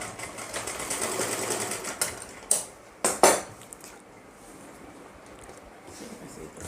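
A sewing machine stitches fabric for an umbrella-style palazzo, a steady run of motor whir followed by a few short, sharp bursts of stitching up close, then it stops.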